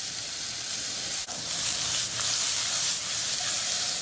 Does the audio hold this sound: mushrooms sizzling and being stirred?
yes